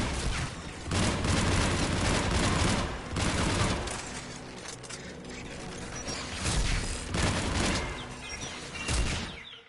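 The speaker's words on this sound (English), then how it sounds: "The Geth anti-aircraft guns are up ahead." Geth anti-aircraft guns in the video game Mass Effect 3 fire in loud, dense bursts of heavy booming gunfire with mechanical clanking, rising and falling in several waves.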